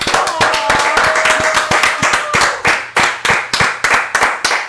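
Close hand clapping from a small group on a late-night podcast, sharp distinct claps in a quick, fairly regular rhythm that slows into spaced claps toward the end.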